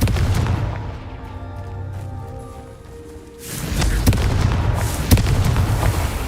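A Confringo fire spell blasts in the Hogwarts Legacy video game, a sudden loud explosive boom that cuts in midway after a quieter stretch of ambient sound, followed by crackling impacts and a sharp bang near the end.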